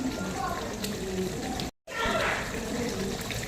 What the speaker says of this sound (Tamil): அதனால் நம்ம தண்ணி ஊற்றிக்கலாம்